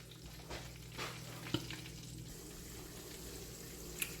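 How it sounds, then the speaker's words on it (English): Chicken pieces frying in a pan at medium heat, a soft continuous sizzle with a few faint clicks and clatters, quiet and close, with no talking. "While this chicken is frying right here"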